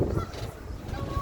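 A flock of Canada geese honks in a deer park, a low, busy chorus of overlapping calls heard from a tram ride, moderately loud and continuous, with no talk.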